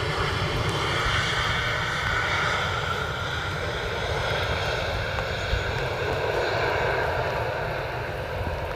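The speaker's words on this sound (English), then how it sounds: "This one is another KLM City Hopper coming in from Brussels, an Embraer 190 again." A KLM Cityhopper Embraer 190 airliner arriving from Brussels at Amsterdam Schiphol Airport gives a continuous, steady jet roar at moderate distance, with no voices over it.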